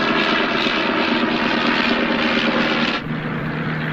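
A propeller aeroplane drones in flight, a loud, steady, close engine roar with a slight shift near the end, no voices over it.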